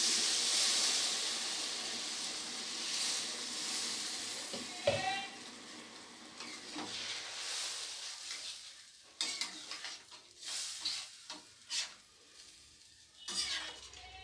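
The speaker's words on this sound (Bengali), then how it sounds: "এবারে দিয়ে দিচ্ছি পরিমাণ বুঝে জল।" Water poured into a hot pan of fried potatoes and katla fish gravy, a bright hissing sizzle at first that fades, followed by stirring and spoon clinks against the pan, with a voice talking now and then.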